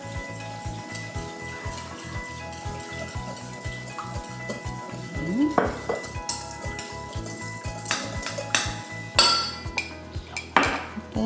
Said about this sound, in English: Then we're gonna add the olive oil. Here's the dill. About 1/4 of a cup. And I'll whisk that around.